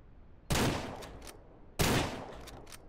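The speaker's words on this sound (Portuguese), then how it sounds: "Atira assim pro alto mesmo." Two loud gunshots from a gun in the video game Ranch Simulator, fired upward, each a sharp crack with a decaying tail, spaced just over a second apart.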